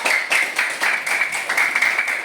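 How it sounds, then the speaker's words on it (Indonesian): Applause for a student named Sarah at an elementary school, SDN 071184 Tetesua, a dense, steady patter of clapping from a group of children filling the room for a couple of seconds. "beri tepuk tangan untuk Sarah"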